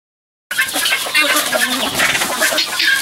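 Guinea fowl squabbling with chickens in a dusty farmyard, a dense continuous flurry of clucks, squawks and flapping starting abruptly and staying loud and close throughout.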